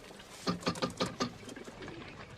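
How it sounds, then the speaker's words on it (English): Several soft, low pigeon coos arrive in a short rhythmic burst of four or five pulses, fairly close. Quieter bird murmuring trails off afterward. "Most of these birds look like they can fly halfway around the block."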